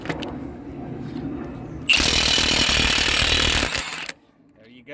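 Impact wrench loosening and refitting lug nuts on a tractor wheel, one loud sustained burst of rattling hammering lasting about two seconds that stops abruptly, preceded by faint background noise and followed by near silence.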